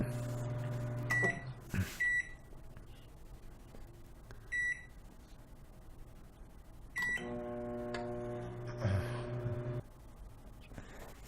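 Several sharp electronic beeps from button presses, then a Sharp or Black & Decker microwave oven hums steadily with a low drone, loud and close, ending with another beep.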